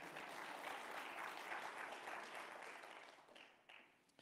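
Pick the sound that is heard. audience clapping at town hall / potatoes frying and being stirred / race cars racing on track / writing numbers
audience clapping at town hall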